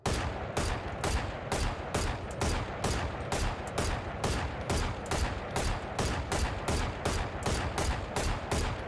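Rapid, relentless weapon fire spammed in the shooter game Valorant: a steady stream of sharp, evenly spaced shots rattling off in quick succession, loud and close, with no talking.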